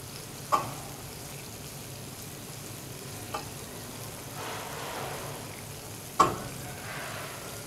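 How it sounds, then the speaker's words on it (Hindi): Gulab jamun frying in oil under a soft, steady sizzle, with a spoon stirring them and three sharp taps against the pan at spaced intervals; quiet and close, with no talking. "फिर हम थोड़ा सा चम्मच इस तरह चलाएंगे साइडों से"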